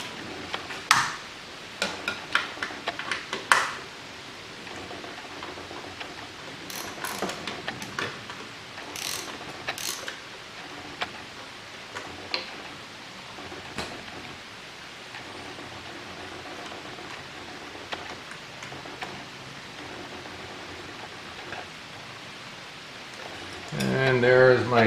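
Ratchet clicking in short bursts as 8 mm bolts come off the air cleaner cover on a 2011 Kawasaki Concours motorcycle, close up, with intermittent mechanical rattles and quiet handling noise between turns.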